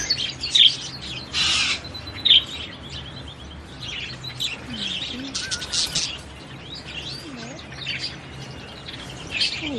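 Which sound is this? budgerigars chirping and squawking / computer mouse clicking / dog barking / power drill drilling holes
budgerigars chirping and squawking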